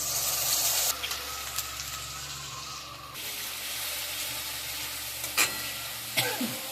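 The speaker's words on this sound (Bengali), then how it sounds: "পেঁয়াজের মধ্যে আমি পেস্ট করা মশলাটা সব দিয়ে দিচ্ছি" Spice paste hits hot oil with fried onions, giving a bright steady sizzle that changes as the paste is added, with a few scraping stirs of a spoon against the pan near the end.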